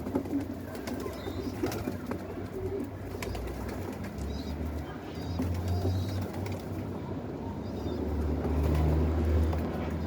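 Pigeons coo in low, soft, repeated rolls close by in Mardin, over a steady hum of passing traffic.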